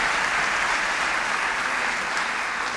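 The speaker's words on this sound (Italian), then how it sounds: "Un applauso per tutti i nostri artisti che tra un po' saranno protagonisti su questo palco" A concert hall audience at a spring gala concert applauds the orchestra's artists, a continuous, moderately loud wash of clapping that holds evenly for nearly three seconds with no voices on top.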